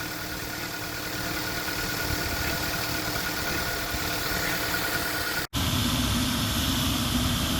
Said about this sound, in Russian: Ну тут НВД шумно еще работает